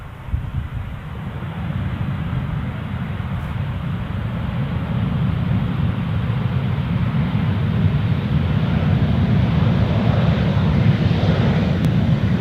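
An Embraer airliner passes at Amsterdam Schiphol Airport, a broad steady roar of jet engines that builds gradually, with a hint of wind buffeting the microphone.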